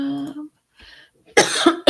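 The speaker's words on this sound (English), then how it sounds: "I got a cough." A woman coughs in several sharp bursts, with brief speech before them and silent gaps between, loud and close, ending in harsh rough coughs.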